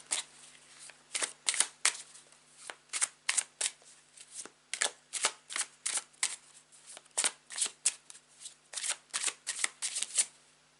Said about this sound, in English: I'm going to grab a final card to close out your reading from the other deck.